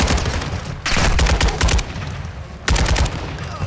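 Rapid bursts of automatic gunfire from Call of Duty Modern Warfare II, loud and close, coming in two or three sustained volleys separated by brief pauses, with no talk over it.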